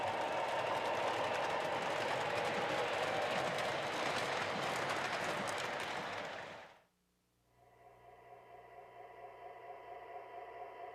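An MTH O-gauge model diesel locomotive runs along its track with a steady, loud rumbling roar that drops away abruptly, leaving a soft tonal hum behind.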